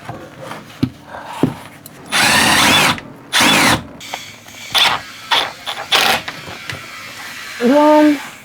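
A power drill drives screws into wood in several bursts, two long runs then shorter ones, close by, with clicks and handling noises between.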